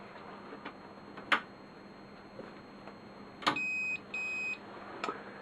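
Two short electronic beeps from an engine cut-off unit sound in quick succession after a few sharp clicks, clear against a steady low hum.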